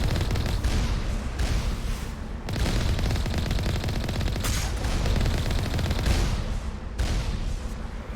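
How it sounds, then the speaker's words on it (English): Sustained rapid gunfire from the Mako vehicle battle in Mass Effect on Noveria, dense and loud throughout with repeated bursts and heavier booming impacts, no talking. "Is there another one shooting me?"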